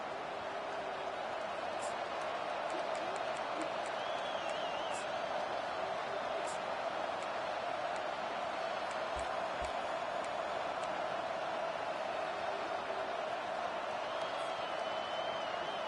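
A dense, steady roar of crowd noise fills a college football stadium in the NCAA 25 video game, with a few faint whistles and shouts on top. It is continuous and loud, with no clear speech.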